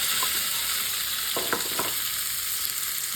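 Shallots and mint sizzling in hot oil with popped mustard seeds, a loud steady crackle close by, with a few stirring scrapes in the middle.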